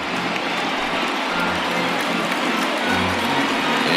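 A big stadium crowd of about 22,000 rises and cheers in MLB The Show 20 during an Expos vs Twins game down to the final strike, a steady broad roar of noise with a few low bass tones underneath.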